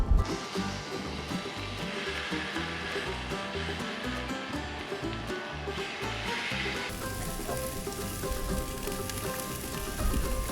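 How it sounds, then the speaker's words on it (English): Bone-in pork chops sizzling over a Royal Oak charcoal grill, a loud, continuous hiss and crackle close by with no talk. "we're going to throw them right over the Royal Oak charcoal and get some grill marks on them"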